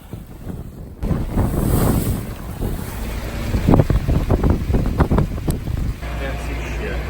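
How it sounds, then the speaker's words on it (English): Strong wind buffets the microphone while big waves crash and slosh around a sailboat on Lake Ontario in stormy weather, with bursts of splashing and roaring gusts throughout. "the wind started to get a little bit stronger and the waves a lot bigger"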